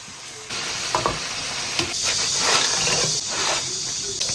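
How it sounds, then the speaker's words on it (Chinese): Crayfish deep-frying in hot oil in a home kitchen, a steady loud sizzle and hiss with bubbling crackle and a few clinks of stirring, heard alone without talk. "小龙虾水分打干，炸红就可以了。"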